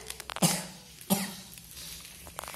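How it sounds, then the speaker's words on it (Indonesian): Two short, sharp coughs close by, about half a second apart, with quiet background noise. "biar aku tak batuk lagi"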